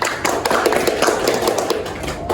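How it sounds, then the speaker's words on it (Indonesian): Students in a classroom clap their hands in a dense, continuous patter of close, sharp slaps that holds evenly for a couple of seconds. "tepuk tangan"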